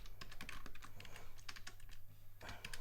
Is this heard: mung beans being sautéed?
no